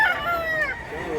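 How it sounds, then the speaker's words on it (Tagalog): A rooster at a rural market in Mantalungon, Barili gives a short, close crow with a rising and falling tone, over faint background murmur. "Nindot ng manok."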